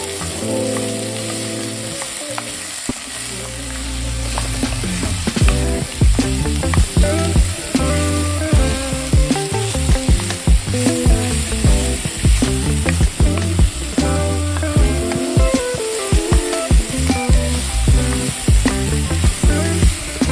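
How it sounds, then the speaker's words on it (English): Chopped vegetables cooking down in hot oil in a pot, a loud close sizzle with dense crackling and repeated scraping stirs over a low tonal hum. "Now that our oil is heated, let's go ahead and add all of our veggies, minus the garlic, and start to cook that down"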